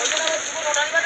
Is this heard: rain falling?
yes